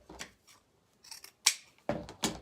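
Scissors snip through ribbon tails for a Valentine's wreath, several short sharp crisp cuts close by in an uneven sequence with quiet gaps between them.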